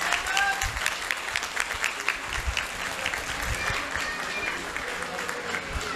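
An audience applauds a dance teacher at a school's annual function, with sustained dense clapping from a crowd across the whole stretch.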